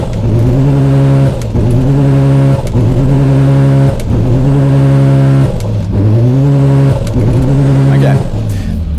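Turbocharged car engine held at 4,000 RPM and taken to full throttle while boost builds, a loud steady drone with strong harmonics, broken by repeated brief dips and surges in pitch.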